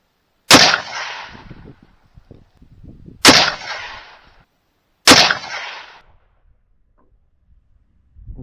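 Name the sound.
rifle gunshots fired at a target, muzzle brake fitted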